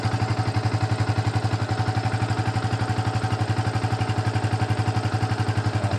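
An old Yamaha Vixion motorcycle idles close by, its engine giving a steady, even chugging pulse with a faint mechanical clatter throughout.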